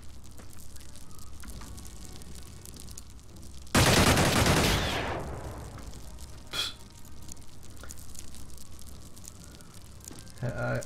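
In the Xenonauts strategy video game, a loud, close burst of sniper or machine-gun fire erupts and fades over about a second. A few softer, isolated shots come later over a steady low background hum.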